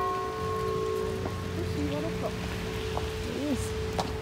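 Steady rain falling on a street in Geneva, Switzerland, a constant soft hiss of drops on surfaces, with faint tonal city sounds and occasional chirps in the background, no talking.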